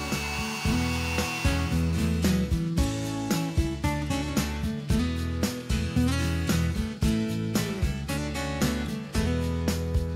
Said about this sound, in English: When routing, the guide bushing follows a phenolic rail, while the router bit cuts exactly in line with the edge guides.